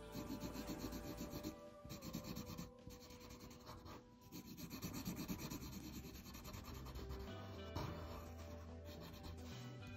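A pencil rubs back and forth across paper while shading a portrait drawing, making a close, continuous scratchy sound in short uneven strokes, heard alone without talk.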